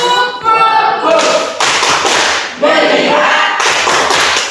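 A Christian religious education class of tenth-grade students at a senior high school claps the 'tepuk fokus' rhythm in several loud bursts of group claps, mixed with chanting voices.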